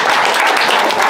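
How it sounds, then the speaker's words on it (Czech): An audience at an improv comedy match gives a brief burst of dense, loud applause for a performer, a continuous wash of many clapping hands close by. "Potlesk pro mého kolegu,"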